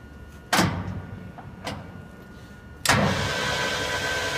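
A 14-inch by 40-inch TRAK CNC toolroom lathe spindle kicks into another speed with a sudden loud onset, settling into a steady broadband machine hum, preceded by a shorter burst and a faint transient.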